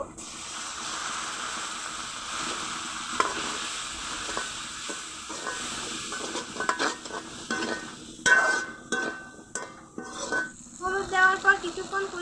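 Onion and potato with turmeric powder being sautéed and stirred in a pan for fish curry, a soft steady sizzle with scraping spatula strokes throughout, growing busier with clinks near the end.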